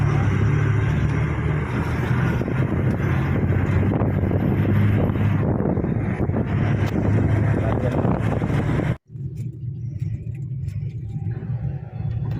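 Thaneshwar Travels bus driving on a highway near Devgad, heard from inside as a constant loud roar of engine and road noise with wind buffeting, briefly dropping out before resuming.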